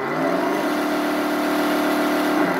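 The MFC-02 sound module in a Tamiya F-350 High Lift RC 4x4 truck plays a simulated engine note as the throttle moves forward: a steady, loud electronic engine hum that rises slightly and holds.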